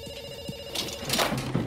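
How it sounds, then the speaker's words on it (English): A telephone rings with a steady electronic tone, medium loud and close, ending as other sounds build up in the background. "we pick up the phone because it's ringing"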